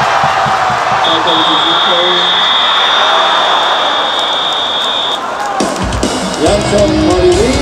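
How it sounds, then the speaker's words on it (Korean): Packed crowd at a Korean baseball game between Hanwha and LG at Jamsil stadium roars in a loud, sustained cheer, with a continuous wash of shouting, and voices and whoops breaking out over it in the last seconds. "함성"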